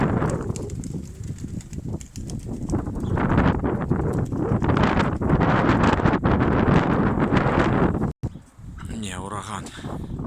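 Strong, gusting wind roars close to the microphone on a rooftop or attic opening, a loud continuous buffeting that drops out briefly near the end before resuming more weakly.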